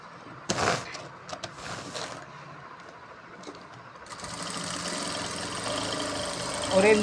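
A sewing machine stitches a running mat, running first at lower speed and then faster, giving a steady mechanical whir that grows denser and more continuous in the second half, with a few sharp clicks early on.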